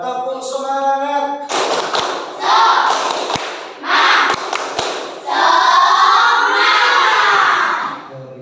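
A classroom of children clap out a rhythmic 'tepuk semangat' cheer in loud, close bursts of clapping mixed with group shouting and chanting, separated by short pauses.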